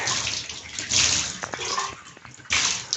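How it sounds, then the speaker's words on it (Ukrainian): Leftover low-pressure tap water from a private house supply runs and splashes as a drinking glass is rinsed, with bursts of gushing water broken by brief pauses and a few clinks. "Трошки тиск лишився, бо я перекрив і можу помити стакан."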